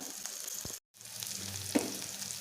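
Garlic, onion and tamarind sauté in a pan for a coconut-free chutney, giving a close, steady sizzle broken by a brief moment of silence and an occasional stirring scrape.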